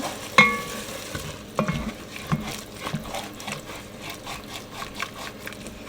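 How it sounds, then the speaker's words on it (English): A spoon scrapes the bottom of a pot of white chicken chili while stirring to deglaze it with broth: one sharp knock at the start, then rough, repeated scraping strokes, close and clear, with no talking. "go ahead and scrape the bottom and get all that flavor up"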